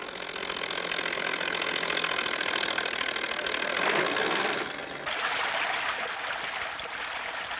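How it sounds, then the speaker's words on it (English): A dredge works on a lake pumping nutrient-rich sediment ashore, its engine droning steadily alongside a rushing, hissing water flow, with an abrupt shift in tone partway through. "Here, a lake is being dredged to remove nutrient-rich sediments which have clogged its use."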